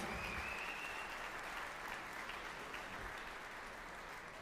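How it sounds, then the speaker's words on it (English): A gala audience gives sustained, dense applause that stays even throughout, quiet and heard from some distance. "give yourselves a huge round of applause"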